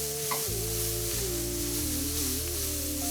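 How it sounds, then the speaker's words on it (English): Garlic sizzles steadily in a hot pan for a sweet potato hash, a constant frying hiss with occasional stirring scrapes and a low hum underneath, close and continuous, with no talking. "we're only gonna saute the garlic for about a minute because we don't want it to burn"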